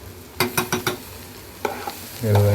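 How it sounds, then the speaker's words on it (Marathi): Grated fresh coconut, coriander leaves and onion being sautéed in a pan for chutney, heard as a quick run of four spatula scrapes, a pause, then two more, over a soft sizzle, with a louder clatter at the end. No one speaks. "ओलं खोबरं घेतलेलं आहे आणि कोथिंबीर पण आहे हे सगळं एकत्र असं परतून घ्यायचं"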